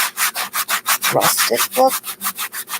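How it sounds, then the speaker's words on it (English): Sanding block rubbed back and forth over a Dollar Tree wooden sign, a steady run of about a dozen rhythmic, raspy strokes close up, with a brief voice speaking partway through. "I'm going to take a sanding block and then just sand it a little bit"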